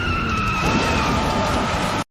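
Video game sound effect of Kirby's car driving and skidding, a loud, continuous tire screech with engine noise underneath that runs for about two seconds, then cuts off abruptly to silence.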